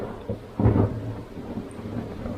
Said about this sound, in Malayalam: ഇടിയോടുകൂടി മഴയാണ്